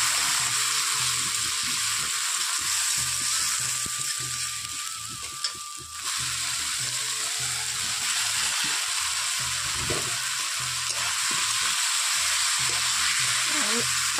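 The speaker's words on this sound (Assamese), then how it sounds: "আৰু এতিয়া মই এইখিনি ভালদৰে ভাজি ল'ম।" Ground spice paste and chopped tomatoes fry in a pan for an Assamese omelette curry, giving a loud, steady sizzle with occasional stirring scrapes and no talking.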